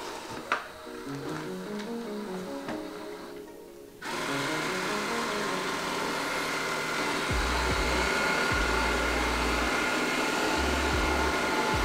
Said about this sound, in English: So the Yeedi Vac system needs about 3 to 5 times of vacuuming your house